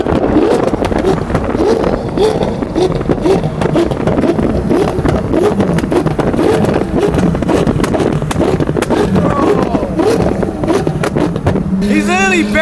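A Porsche GT3 on the freeway, its engine and exhaust droning loudly and continuously amid heavy wind buffeting, with people talking over the noise throughout.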